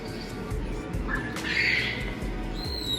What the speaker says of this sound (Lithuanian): čia tie paukščiai reaguoja